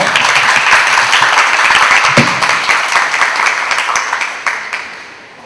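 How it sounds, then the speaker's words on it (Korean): An audience at a book talk on the lives of those left behind breaks into sustained applause to welcome a speaker, dense and steady throughout before tapering off near the end, with no talking over it. "큰 박수로 이렇게 맞아주시기 바랍니다."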